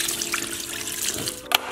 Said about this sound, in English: So I'm just gonna get some water in this, heat it up